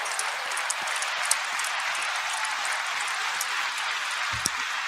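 A small audience applauds a guest on a music culture podcast, a dense, even wash of clapping that holds steady for the whole stretch without voices.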